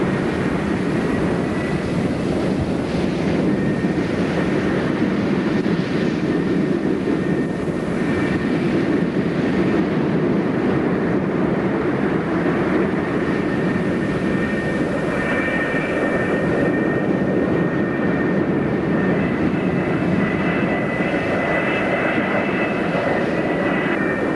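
An F-4E Phantom jet on an aircraft carrier flight deck gives off a steady, loud, broadband engine roar with a whining tone, holding constant for the whole stretch with no talk.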